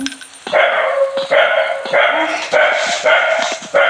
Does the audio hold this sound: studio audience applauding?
no